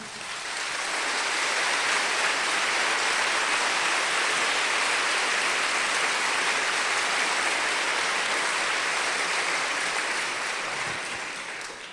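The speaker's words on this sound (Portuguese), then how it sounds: "Foi bom que você aplaudiu" A church audience applauds during a sermon, a sustained wash of many hands clapping that swells in, holds steady for several seconds and then tapers off.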